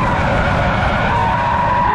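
A rear-wheel-drive Audi R8 skids hard with its tires squealing, a loud, continuous screech of rubber sustained over the engine for the whole two seconds, with no talking.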